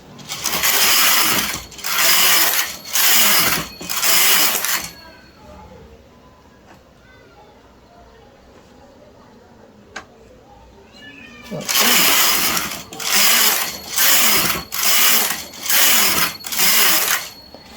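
A domestic knitting machine carriage sweeps back and forth knitting a diamond pattern, making loud, rhythmic whooshing rattles in two runs of repeated passes separated by a quieter stretch.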